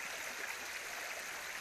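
Water runs steadily over the stones of Badger Creek, a cobble-bottomed creek in Victoria, making a soft continuous rushing wash, moderately distant and faint, with no voices.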